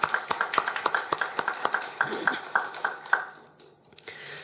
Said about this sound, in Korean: 이런 은혜 주신 아버지 하나님께 감사와 영광의 박수 올려드립니다